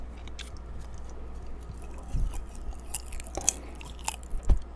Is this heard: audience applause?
no